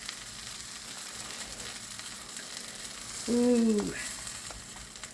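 Grilled cheese with Parmesan sizzling in an iron skillet, a faint steady crackle under a short exclaimed voice.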